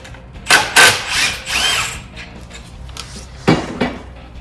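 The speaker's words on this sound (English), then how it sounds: "we're going to go ahead and remove the secondary bolt again" A power tool on a Polaris RANGER/RZR 570–900 DuraClutch secondary clutch bolt gives several loud short bursts of whirring and rattling, then a pause, then two more quick bursts, close by.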